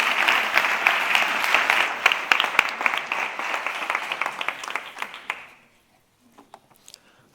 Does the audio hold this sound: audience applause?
yes